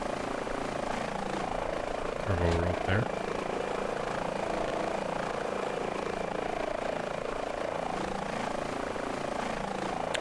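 An Airbus H145 helicopter in Microsoft Flight Simulator 2020 drones steadily with constant rotor and turbine noise while someone talks over it, and a brief louder mechanical surge occurs partway through.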